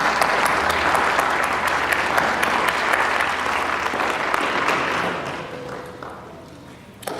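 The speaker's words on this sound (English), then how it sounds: "Round of applause to you." Audience at a commencement event for the 100 Black Men Beautillion breaks into a loud, full round of applause, dense clapping from many hands that holds steady, then thins out and fades after about five seconds.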